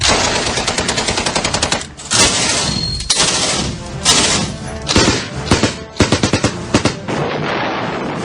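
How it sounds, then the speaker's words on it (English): A Browning Automatic Rifle fires loud, close bursts of rapid automatic shots, with short gaps between the strings of fire and a roar of echo after each one. "The Browning Automatic Rifle is capable of intense firepower."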